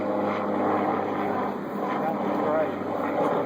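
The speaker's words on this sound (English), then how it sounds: "Private helicopter, looks like." A private helicopter flies overhead outdoors, a steady broadband rotor and engine drone holding at an even level throughout, with voices talking over it.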